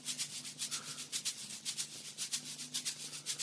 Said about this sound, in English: that's when I added the shaker loop, which is also from a sample pack